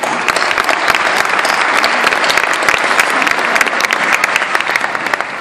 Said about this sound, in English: Yes, we should applaud them.